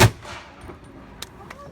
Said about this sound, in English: there are only two words to fire this cannon off, and they are, ready, fire!